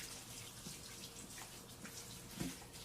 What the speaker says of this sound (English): let me wash my hands real good